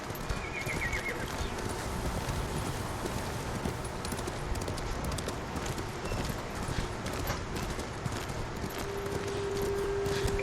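Rapid, continuous clip-clop of a horse galloping in Ghost of Tsushima on PS4, a steady drumming rhythm of hooves under dense game ambience and music for the whole stretch.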